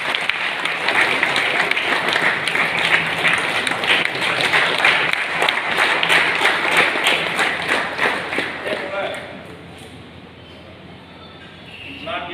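Sustained crowd applause from an audience at a Tamil lecture, dense and steady for about nine seconds before fading to a quieter murmur, with some voices mixed in.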